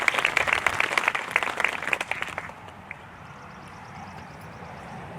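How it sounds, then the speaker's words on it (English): Audience clapping at a county learning academy commencement ceremony, a moderate burst of many hands for the first two and a half seconds that fades quickly into quiet room tone. "Let's give them another round of applause."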